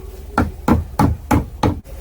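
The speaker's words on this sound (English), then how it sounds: "Put it up a little with a hammer." Five evenly spaced, sharp metallic taps from a hammer knocking a Lambretta scooter kickstart part into place, close and loud, with brief quiet gaps between blows.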